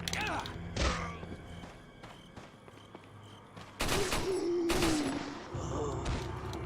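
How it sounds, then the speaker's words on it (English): Pump shotgun blasts from the video game Resident Evil 4: a few sharp, booming shots spaced a second or more apart, with mechanical clatter and faint background voice between them. "the shotgun, the pump shotgun, was super satisfying"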